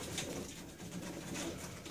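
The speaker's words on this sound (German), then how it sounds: "Das wird auch eine sehr gute Taube." Racing pigeon cooing, a soft steady murmuring coo repeated through the moment, fairly close with no talk over it.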